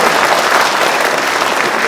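Applause from an audience at a Korean church pastor's inauguration ceremony, dense and steady clapping that holds at full loudness for the whole moment.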